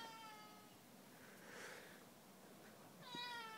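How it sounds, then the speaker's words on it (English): A house cat meows inside a Japanese woodworker's shop, a few drawn-out, clear meows close by, the last rising and louder, with no talk over them. "That's the family cat."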